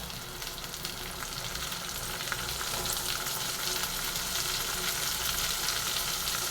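Chopped tomatoes sizzle and fry steadily in a hot pan, a continuous crackling hiss with no talking.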